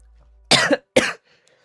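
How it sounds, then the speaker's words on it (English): Two sharp, close coughs in quick succession, separated by a short pause, with quiet before and after. "I was coughing a bit."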